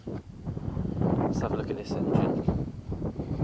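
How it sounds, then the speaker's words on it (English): Outdoor wind buffets the microphone beside a sailboat under restoration, producing a rough, low rumble that rises and falls. Someone talks over it the whole time. "Sorry about the wind, it's always windy."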